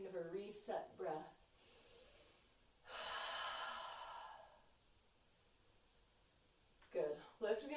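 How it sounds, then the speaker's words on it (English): A single deep exhale blown out through the mouth during a gentle yoga session, a long steady breathy rush lasting about two seconds, heard close and fairly loud after a brief spoken instruction, with more talking following. "Maybe exhaling out through the mouth for a cleansing breath, kind of a reset breath"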